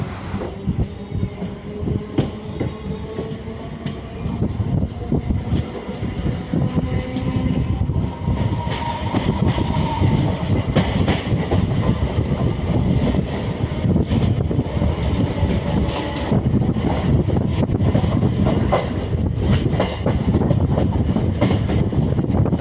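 Local EMU electric train running between Avadi and Ennore, giving a loud, continuous rumble with wheel clatter and rail noise that swells slightly as it gathers speed, with no voices.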